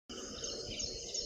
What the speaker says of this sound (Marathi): या ठिकाणी पक्ष्यांचा आवाज येतोय